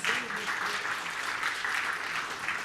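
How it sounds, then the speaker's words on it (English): Audience members at a telecom conference welcome address clap together in a brief, even burst of applause, fairly soft and continuous with a faint voice beneath. "A round of applause"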